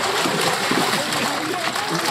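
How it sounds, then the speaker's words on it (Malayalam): Water splashing and sloshing continuously at a pond during a fish harvest. Voices talk underneath the noise. "വെള്ളം നന്നായിട്ട് തെറിക്കും"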